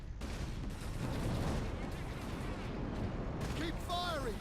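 Dense, sustained gunfire and heavy weapon blasts from a Warhammer 40K Space Marine battle, loud and continuous, with a voice talking over the din and brief electronic warbling tones near the end.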